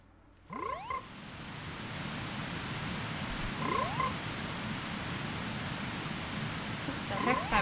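Frogs croak in the Snowhead area of the video game Majora's Mask, three short rising croaks spaced several seconds apart over a steady background hum of ambient game noise.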